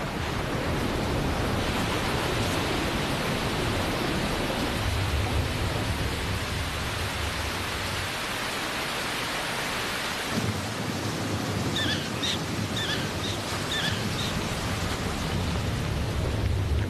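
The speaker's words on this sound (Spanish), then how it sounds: "fuertes tormentas anuncian el final del verano" Dense, constant roar of heavy rain pouring down, with a low rumble of thunder partway through and a few faint chirps near the end.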